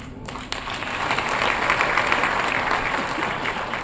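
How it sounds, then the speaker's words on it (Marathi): Audience applause at a grand civic felicitation ceremony for actor Ashok Saraf: a sustained, dense burst of clapping from a large crowd, steady and fairly loud throughout after a brief quieter start. "ह्या ज्या तुम्ही टाळ्या वाजवताय"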